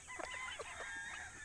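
Gamefowl chickens and roosters on a game farm give a quick run of short, fairly faint clucks and squawks over a low background hum.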